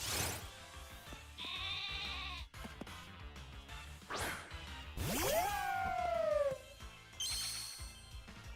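Wooloo sheep bleating in a Pokémon video game, several distinct synthesized bleats spread across the clip, some short and some drawn out with falling pitch, over quiet game music and occasional whooshing effects.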